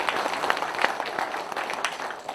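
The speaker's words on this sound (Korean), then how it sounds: "한번 큰 박수 부탁드리겠습니다" An audience at a Korean lawmaker's 2023 legislative report meeting gives an assemblyman a round of applause, a busy, steady crackle of many hands clapping throughout the short stretch.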